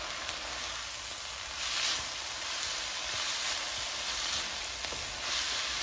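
Soy sauce and ketchup sauce for chicken chow mein sizzling steadily in a hot pan as it is mixed, a continuous close hiss with faint stirring scrapes and no talk.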